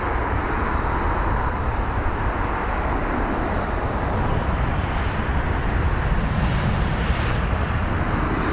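Aircraft EI-NSC lands at London Heathrow with a loud, steady, broadband engine roar that holds through the whole stretch without a break, and no voices over it.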